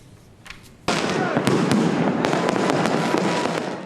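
New Year fireworks burst in a city square, a loud sudden blast followed by a dense, continuous crackle with repeated sharp pops close by.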